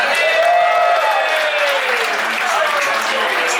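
A football game crowd in St. Paul, Minnesota applauds and cheers continuously, a dense wash of clapping and shouts at steady volume throughout.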